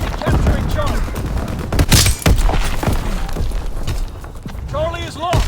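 Heavy gunfire fills a WW2 video game battle, with loud overlapping shots and bursts along with thuds and game voice callouts.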